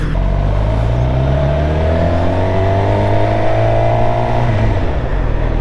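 A 2020 Suzuki GSX-R750 motorcycle engine revs hard up toward its redline and back down, a loud, close, rising and falling wail held for several seconds with no talking.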